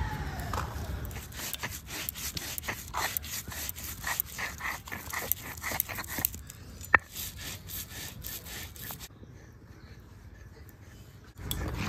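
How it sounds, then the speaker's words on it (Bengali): Tomato, ginger, cashew, poppy seed and green chilli are being ground into paste by hand, heard as a run of repeated rough scraping and rubbing strokes that fades out near the end before a last short burst. "এবার সব কিছু বেটে নেবো আমি"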